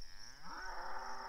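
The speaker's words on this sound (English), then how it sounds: "Oh, there's some cows over there." Cattle in a field give a single low, drawn-out moo that rises and holds, heard from a short distance against faint background hum, with no one speaking.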